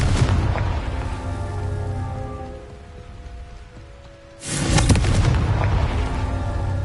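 A Confringo fire spell explodes in the video game Hogwarts Legacy, a loud roaring blast that lingers and fades, then a second booming burst erupts over steady, rain-like ambience.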